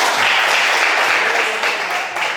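Applause from a school class clapping their hands together, a dense steady wash of claps filling the whole moment at close range with no talk over it.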